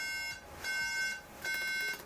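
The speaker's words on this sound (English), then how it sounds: "I'm getting 3 beeps on startup, and this means there is something wrong with the RAM" A MacBook sounding three startup beeps for a RAM fault, each a clear steady electronic tone in a regular even sequence, close and alone.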